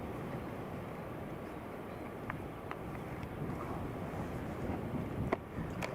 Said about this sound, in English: So it's now getting quite windy,